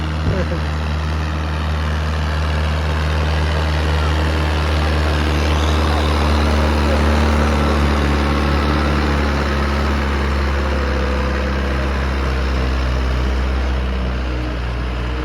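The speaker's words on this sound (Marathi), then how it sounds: "चढ अजून येत आहे आणि ट्रॅक्टर तिकडूनच उठ चाललेला आहे." An Arjun tractor engine drones loudly and continuously at night, straining with a deep, steady rumble as it labors uphill.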